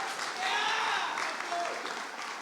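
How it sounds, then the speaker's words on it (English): Wedding guests clap for the newlyweds in a steady burst of applause from a small crowd, with a few cheers and voices mixed in. "Can I get a little round of applause for these two newlyweds right here?"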